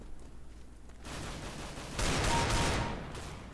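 Gunfire in the video game CS:GO, a dense crackle of shots that swells to a louder burst midway and then eases off, with no talk over it.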